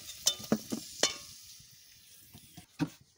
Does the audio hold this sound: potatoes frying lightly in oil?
yes